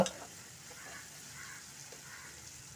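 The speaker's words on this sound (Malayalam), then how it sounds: "തക്കാളി കൂടി ചേർത്ത് നമ്മളിത് മീഡിയം ഫ്ലെയിമിലിട്ട് നല്ലതുപോലെ ഒന്ന് വഴന്ന് ശരിക്കും ആ എണ്ണയിലൊന്ന് വഴന്ന് വരണം." Tomatoes sauté in oil over a medium flame for a potato fry. The sizzle is faint and steady and opens with a brief clack.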